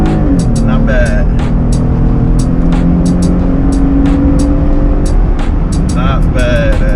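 A Jeep Gladiator Sport accelerates hard with traction control off, its engine roaring loudly and climbing through revs inside the cab, with a voice speaking over the steady engine noise.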